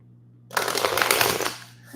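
Tarot cards being shuffled in a steady, dense riffling burst lasting about a second, fairly close and clear, with a low hum underneath and no talking.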